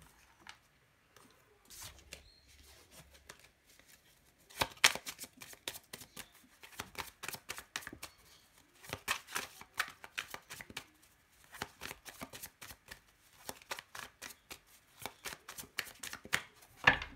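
Oversized tarot cards are shuffled by hand in a quiet room, giving a steady run of close, crisp riffling and slapping clicks that comes in dense bursts throughout.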